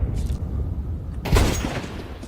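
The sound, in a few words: sniper scout rifle shot in the video game Counter-Strike 2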